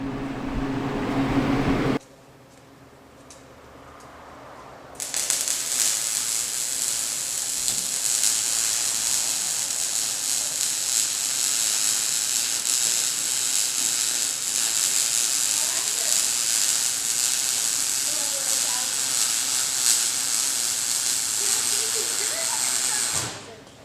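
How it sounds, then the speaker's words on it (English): Steady hiss and crackle of arc welding on a silage trailer knife gate runs for about twenty seconds, near and continuous after a brief stretch of talk and workshop noise. "So we're gonna get welding here."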